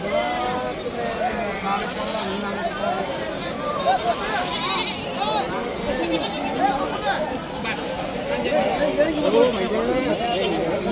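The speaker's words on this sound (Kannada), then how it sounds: "ಮೇಕೆ ಇದಾವೆ, ಓತಾ ಇದಾವೆ." Sheep and goats bleat over and over through a busy Friday morning livestock market in Mudhol, Karnataka, overlapping calls rising from a crowd of animals amid steady chatter and people talking nearby.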